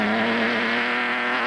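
A Ford Ranger race truck roars past at speed in an off-road endurance race, its engine a loud, sustained buzzing drone with a steady pitch that fades slightly at the end.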